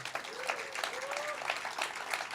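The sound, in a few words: audience applause for the Siskiyou violins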